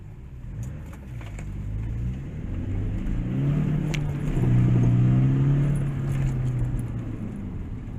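A motorbike engine revs on a track day circuit, a low rumbling drone that swells and holds in the middle before easing, with some jangling rattle and no speech.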